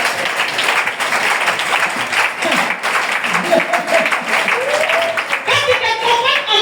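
A church congregation applauds and cheers in acclamation of the Lord, a steady wash of clapping held at even loudness throughout, with voices calling out and singing over it.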